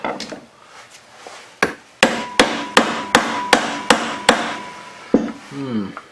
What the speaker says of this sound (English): Where's the brass hammer?